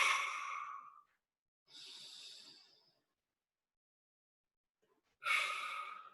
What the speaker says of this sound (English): So I'm going to try and really exaggerate this breath.